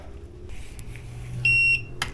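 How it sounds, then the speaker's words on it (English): A single bright electronic beep from a home EV charger as an RFID card is tapped, steady and high-pitched, lasting about a third of a second against a low background hum, with a faint click just before it. "Hear the beep."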